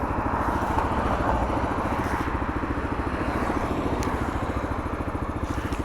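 AJS/MGB ATX125cc adventure motorcycle being ridden, its small single engine putting out a steady, close, rapid putter with even pulses throughout.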